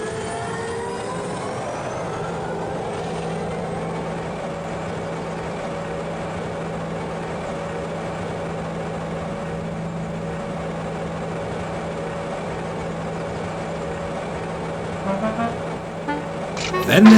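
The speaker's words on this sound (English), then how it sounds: "Then his driver started his engine. It started with a low hum, then turned faster and faster until it made a steady whine." GT3 engine running in an engine shed: a steady, continuous mechanical drone with a sustained whine holding throughout, slightly rising at the very end, with no talk.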